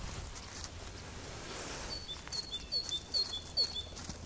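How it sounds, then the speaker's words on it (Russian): Songbirds in a village forest chirp in short, bright bursts, faint to moderate and somewhat distant, over quiet outdoor ambience. "Птички весело поют."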